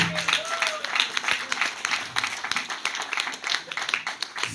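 A church congregation applauds steadily for several seconds, dense clapping from many hands filling the room, with a few faint voices under it.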